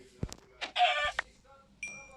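A chicken gives a few short, clucking squawks in uneven bursts, close by, with brief human vocal sounds and a tonal beep mixed in.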